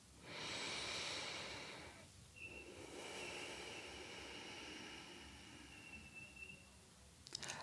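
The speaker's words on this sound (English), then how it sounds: "take a few deep inhales and exhales through your nose" Slow, deep breaths in and out through the nose at the start of a yoga session, heard as soft, quiet airy swells, one long inhale-exhale cycle after another, close and alone.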